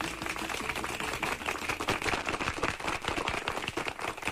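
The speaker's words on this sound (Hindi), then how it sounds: "मीना, दीपू और राजू के लिए जोरदार तालियां।" Enthusiastic applause for Meena, Deepu and Raju in an animated children's show: dense, rapid clapping from many hands holds steady for several seconds without speech.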